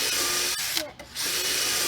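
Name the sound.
power drill drilling holes through a wooden raised bed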